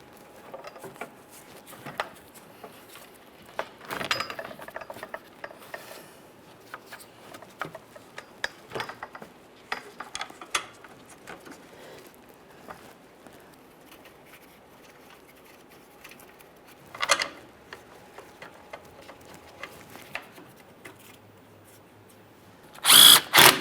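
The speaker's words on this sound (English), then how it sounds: "start in all 4 of the mounting bolts and then we'll snug them up." Mounting bolts on a 2013-2020 Ford Fusion 2.0L radiator support driven in with a power tool, heard as faint intermittent ratcheting and whirring with scattered taps, then a loud close burst of drill noise at the very end.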